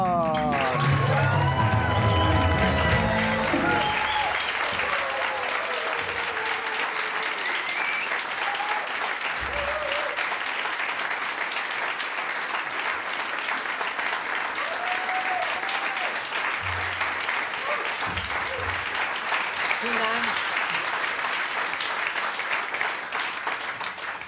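A television studio audience applauds steadily to welcome comedian Olaf Schubert onto the stage. The dense, even clapping runs throughout, loud and close, opening with a brief musical sting and some cheering.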